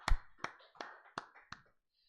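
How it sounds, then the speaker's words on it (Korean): Five sharp, evenly spaced hand claps or taps ring out in a church service, each a crisp transient with a short tail, fading out after about a second and a half with no voices. "하나님께 영광의 박수 돌려드리겠습니다."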